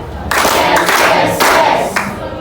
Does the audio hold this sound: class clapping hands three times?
yes